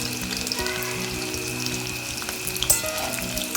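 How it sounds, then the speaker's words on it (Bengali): Chicken pieces frying in oil, a continuous close sizzle with small crackles and one brief louder spatter, no voices present. "সব চিকেন একবারে ফ্রাই করে নিই"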